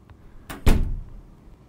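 A locked door rattles in the Ao Oni video game, two quick knocking clatters followed by a brief rumbling decay, with no talking.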